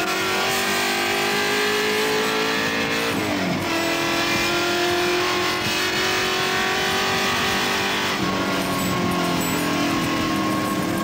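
Tru Blu MkII race car driven by Dick Johnson circling Surfers Paradise Raceway, its engine roaring loud and steady with rising and falling revs as it accelerates and shifts gears.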